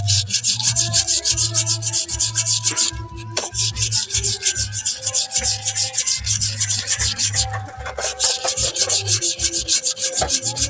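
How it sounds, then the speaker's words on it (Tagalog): Sandpaper rubbed by hand over wood in long steady back-and-forth strokes with two brief pauses, close and loud, with no talk. "Dito kaskasin na rin natin ng liha kasi para mas kumapit"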